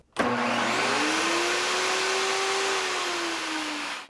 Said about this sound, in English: now I'm going to connect up the 12 amp vacuum and the 15 amp table saw.